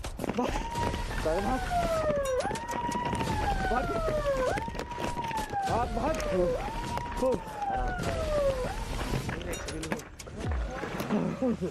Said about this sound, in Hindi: फॉरेस्ट रेंजर्स ने सायरन बजाना शुरू कर दिया